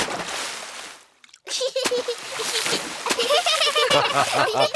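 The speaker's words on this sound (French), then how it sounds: "Mais essaie de ne pas m'éclabousser." Cartoon splashing as a young pig character puts both feet into swimming pool water, a burst of loud splatter after a brief pause, with a bright musical score running beneath.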